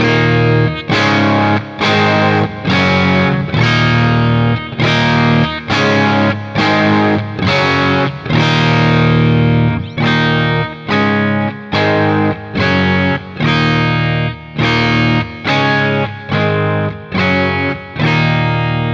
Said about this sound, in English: The Custom Shop Telly through that overwound pickup is just a lot more attacky, and it's right in your face